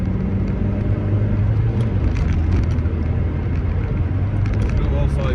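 A 1989 VW Golf GTI 16v engine running on the road, a loud steady drone with road rumble, heard close from inside the car, with someone talking over it.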